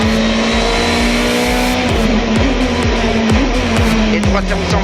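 Sébastien Loeb's Hyundai rally car at full attack on asphalt: the engine screams loud and close, with rapid gear changes audible as repeated dips in pitch, tires hissing, and the drone continuous throughout.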